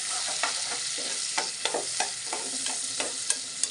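Chopped onions sizzle in hot oil in a pan for a brinjal and egg curry, with steady frying hiss and repeated soft scrapes and clinks of a spoon stirring, close and continuous.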